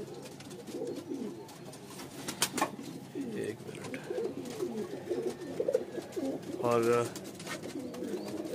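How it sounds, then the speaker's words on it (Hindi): Pigeons coo in a loft with a breeding setup, soft repeated coos and a few wing flaps under someone talking close by. "लॉफ्ट में इनके काफ़ी सारे कबूतर भी है।"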